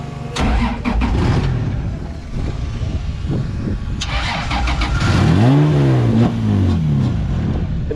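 A 2JZ-swapped Nissan 180SX with clogged injectors cranks and catches, its engine rising into loud, uneven revs up close, with a few voices around it.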